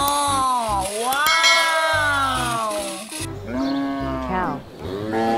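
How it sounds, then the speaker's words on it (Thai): A walking toy cow gives repeated loud electronic moos with a mechanical whirring and clicking underneath, close and continuous, with a brief pause before another moo near the end. "เรามาดูพี่วัวเดินโชว์ตุ้นกันดีกว่า"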